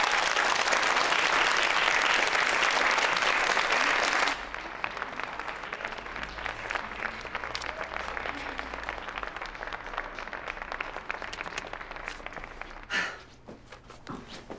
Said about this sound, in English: Round of applause for Dynasty Barry.